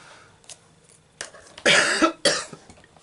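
A person coughs indoors while colouring, giving a couple of harsh, loud close coughs after some quieter throat sounds, each burst short and breathy.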